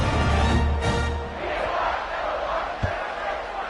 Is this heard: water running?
no